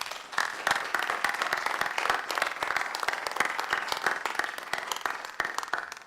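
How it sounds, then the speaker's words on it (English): Round of applause from attendees at a Tameside council meeting, steady dense clapping held at a fairly even level throughout, with no talk over it. "I think it's worth a round of applause for the effort they've all put in"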